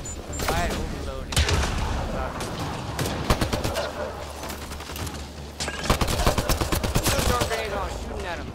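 Rapid bursts of gunfire in the Mass Effect Andromeda game, dense volleys of shots crackling close and loud across the clip, with game sound and a voice underneath.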